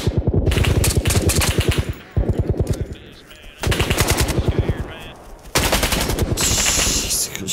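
Rapid automatic gunfire in a tactical shooter video game comes in four loud, dense bursts of evenly spaced shots with short breaks between them.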